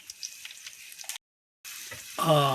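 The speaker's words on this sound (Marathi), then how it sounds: "खमंग फोडणी देऊन खास होत आहे जिरा लसूण हिरवी मिरची कढीपत्ता थोडीशी हळद" Cumin, garlic, green chili, curry leaves and a pinch of turmeric crackle in hot oil for a pithla tempering on a stove. The close sizzle cuts out for a moment, then returns with a voice rising at the end.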